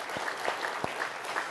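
A church congregation at a Korean early-morning prayer service claps briefly, a short burst of light, scattered hand claps in a reverberant hall.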